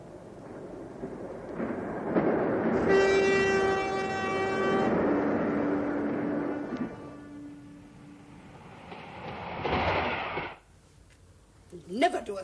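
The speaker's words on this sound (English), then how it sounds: "The train." A train rumbles past with a long, loud horn blast, then a second horn note, before the sound fades into quieter noise and a short burst at the end; talk can be heard around it.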